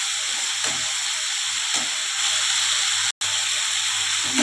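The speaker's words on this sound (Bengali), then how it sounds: "চারপাশটা একটু ভালো করে ধীরে ধীরে নাড়তে হবে, সেই মশলাটা ভালোভাবে ভাজা হয়ে যায়।" Ginger and cumin paste fries in hot oil in a pan for a spicy tilapia curry, giving a steady, close, even sizzle and hiss, broken once by a brief dropout.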